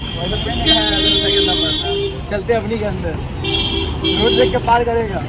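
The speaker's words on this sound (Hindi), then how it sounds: "सिर्फ हॉर्न, सिर्फ हॉर्न, हॉर्न के सिवा कुछ भी नहीं." Several vehicle horns honk in busy road traffic, two longer bursts with shorter toots between them over a steady roar of engines, with people talking throughout.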